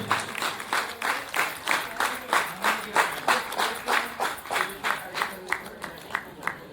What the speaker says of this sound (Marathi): आपण टाळ्या वाजते आणि त्या टाळ्यांमध्ये ऊर्जा येईल